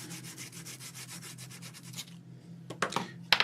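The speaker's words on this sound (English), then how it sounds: "I'm going to use my sanding paper. This is by Tim Holtz as well" Tim Holtz sanding paper is rubbed across a paper journal page in quick, even back-and-forth strokes for about two seconds, then stops and is followed by a few faint taps and handling noises, close and quiet.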